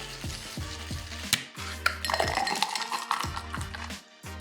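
Whiskey sour with egg white and fresh lemon juice dry-shaken in a cocktail shaker without ice, giving a fast, regular series of hard knocking sloshes, about two per second, close and loud, with a brief pause partway.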